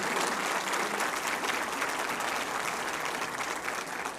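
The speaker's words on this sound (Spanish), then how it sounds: "Démosle un aplauso por ese esfuerzo." A church congregation applauding, a dense, steady wash of many hands clapping together at even loudness across the whole moment, with no talk over it.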